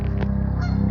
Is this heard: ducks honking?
yes